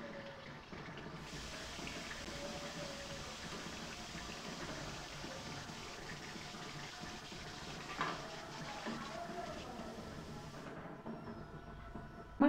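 Gujia pastries fry in hot oil, giving a soft, steady bubbling sizzle that runs unbroken at low volume with no voices.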